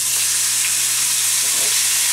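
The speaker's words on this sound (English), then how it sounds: "So now, I'm going to add in my shrimp." Shrimp fry in a pan with a dense, steady sizzle that is loud and close and holds throughout with no pauses.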